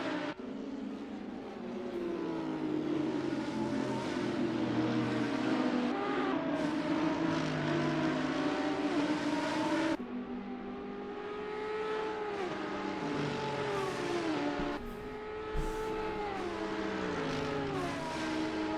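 Race cars crowd a congested straight at Road Atlanta in a sim racing game, several engines droning and revving together at high pitch, with gear shifts and shifting tones as cars pass and jostle.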